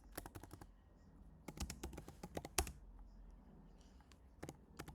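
Someone types on a computer keyboard in quick, quiet bursts of clicks separated by short pauses, close and clear with no talking.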